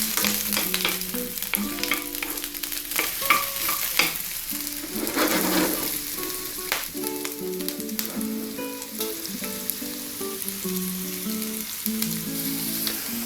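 Potatoes for a vegetarian breakfast hash with roasted peppers and onions, stirred and frying in a pan: steady close sizzle with repeated utensil scrapes and clinks throughout, no talking.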